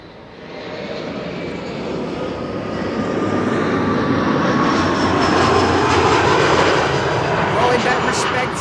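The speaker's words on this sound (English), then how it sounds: "This is an Embraer 175 arriving from Geneva." A KLM Embraer 175 jet arriving at Amsterdam Schiphol from Geneva swells into a loud, broad engine roar that builds over a few seconds and then holds steady, with a faint high whine riding on top.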